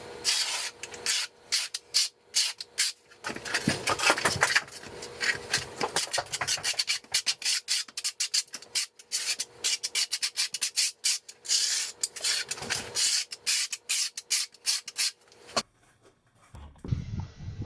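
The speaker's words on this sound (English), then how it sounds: "First I'm going to use the flat side of the trowel to key the thinset into the substrate, and then I am going to flip it over and notch out the thinset." Steel trowel scraping and spreading thinset mortar over shower backer board for an all-glass tile shower, a run of close, rhythmic rasping strokes with short pauses, ending in near silence.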